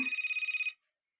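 A phone rings inside a Toca Boca video game, a steady electronic trill of rapid pulses lasting under a second, loud and clear with nothing else around it, then cutting off into silence.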